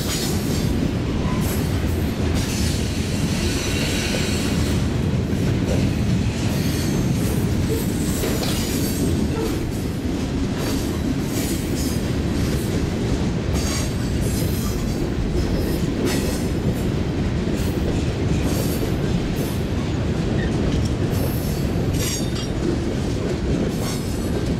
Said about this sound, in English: The end of the westbound mixed freight.